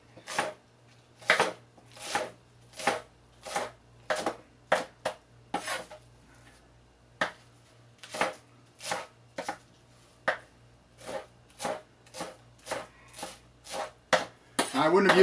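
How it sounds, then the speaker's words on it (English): Green cabbage for coleslaw is chopped with a knife on a board, with sharp, loud, regular chops at about one per second and a quiet hum between strokes. "There's no core to cut out of this one, so I'm gonna chop it up."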